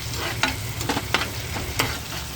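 Coriander leaves sizzle in hot oil while a spoon stirs and scrapes the pan now and then, a steady close frying hiss.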